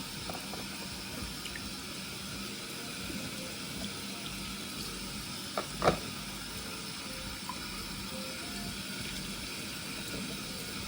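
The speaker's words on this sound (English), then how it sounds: "Let's rinse them off." Peeled cassava rinsed under a running kitchen tap, a steady low wash of flowing water with a brief louder splash midway, close and without talk.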